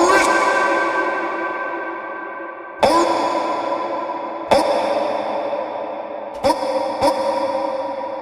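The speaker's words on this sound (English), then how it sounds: "We'll turn on this reverb." A music sample struck several times in a riddim production session, each hit blooming into a long reverb tail that swells and slowly decays, with sharp attacks at irregular intervals and a washed, echoing sustain between them.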